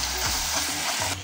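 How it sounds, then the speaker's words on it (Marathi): A spoon stirs fried garlic, ginger and ground green chili in a hot pan. Several scraping strokes sound over a loud, constant sizzle, and the noise drops off abruptly near the end. "आता ही मी वाटलेली मिरची टाकून घेणार आहे. आता इथे मी मिक्स करून घेणार आहे."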